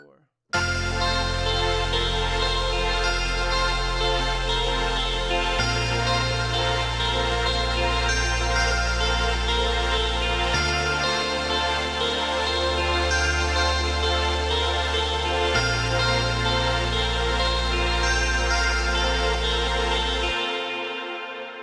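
A bright synthesizer lead rides over a deep sub bass that shifts root notes every few seconds, filters gradually opening under the mod wheel, steady and loud with no talking.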